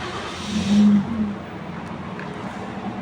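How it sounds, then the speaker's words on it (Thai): A Toyota Yaris five-door is started with a twist key, the engine catching in a brief loud burst around a low hum, then settling into a steady idle heard from inside the car. "เดี๋ยวมาสตาร์ทรถดูด้านในกัน"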